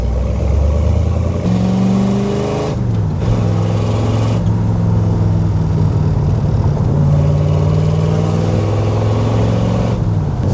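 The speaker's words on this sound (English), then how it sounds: "This thing's not too loud. It's got the sound. It's got the big block Chevrolet, you know." A 1965 Chevrolet Corvette convertible restomod with a big-block 396 Chevrolet V8 accelerates hard, its loud, steady engine roar climbing in pitch through gear changes, with brief dips between shifts and no talk over it.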